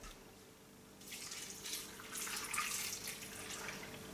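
Water poured into a pot for homemade soup with squash, a steady splashing, trickling stream starting after a brief quiet moment and continuing close by at moderate loudness, with no talking.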